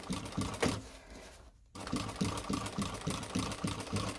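A sewing machine top stitches a messenger bag, running in a steady rapid mechanical rhythm, briefly pausing and then starting up again at a consistent even pace, close and clear.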